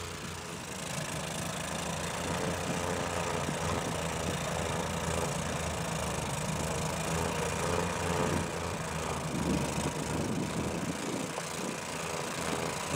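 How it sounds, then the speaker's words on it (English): A pickup-mounted snowblower's engine runs steadily and loudly throughout, a continuous rough drone, running poorly and in need of carburetor cleaning. "I did notice that the engine isn't running at its optimum."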